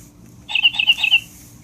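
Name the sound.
bird chirping from a toy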